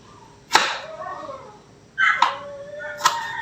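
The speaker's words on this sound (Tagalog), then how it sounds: "Ang ingay ng aming aso sa labas." A dog outside lets out three sharp yelps or barks, spaced apart, over faint background noise.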